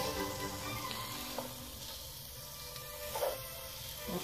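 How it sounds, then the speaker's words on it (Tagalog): Pancit noodle ingredients sautéing in a pan give a steady, moderate sizzle with a few soft stirring knocks, heard alone without talk. "Ginigisa ko muna. Kasi mas masarap siya kung gisahin muna."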